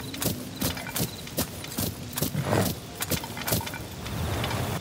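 Hooves of a burning horse clip-clop steadily in Zelda: Tears of the Kingdom, a rhythmic run of sharp, close hoof strikes with a faint mechanical hum beneath.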